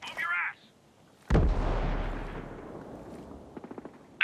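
In the video game Ghost Recon Breakpoint, a brief voice-like burst gives way to a frag grenade exploding loudly with a long rumbling decay, then a quick string of sharp gunshots near the end.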